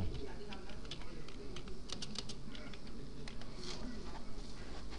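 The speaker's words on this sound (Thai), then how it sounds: "เมื่อเราทำการ พิมพ์นะครับ ตัวแปรลงไป เสร็จเรียบร้อยแล้วนะครับ" Rapid, continuous clatter of a computer keyboard as a variable name is typed in Authorware 7.0, close and steady over background noise.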